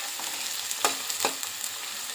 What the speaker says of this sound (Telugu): ఉల్లిపాయ పచ్చిమిర్చి కట్ చేసుకుని వేసి గోల్డ్ కలర్ వచ్చేంత వరకు వేయించుకోవాలండి.